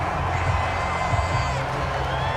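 Stadium crowd in the Madden NFL 22 video game during an Eagles versus Commanders matchup, a dense, steady roar of cheering and murmur filling the background without distinct peaks.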